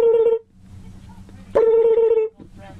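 Two short, bright cackling calls like a turkey gobble, each a quick pulsing warble lasting under a second, separated by a quiet gap with faint background murmur.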